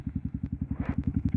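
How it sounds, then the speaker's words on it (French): A 125 WRX motorcycle with a 320 mm Brembo front brake, ridden hard into an emergency stop: a steady, near, rhythmic low engine pulse chugs throughout, with faint mechanical clatter rising over it mid-way. "Un freinage d'urgence."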